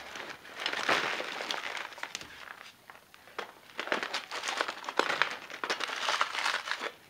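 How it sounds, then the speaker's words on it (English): A holed sheet of plastic is picked up and handled, giving bursts of close crinkling and crumpling with short pauses between them. "I'll grab some of this sheet plastic."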